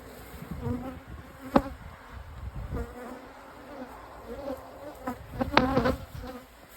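Honey bees buzz steadily around an opened hive during an inspection, a dense near drone with swelling louder passes and a few sharp close flybys, no talking.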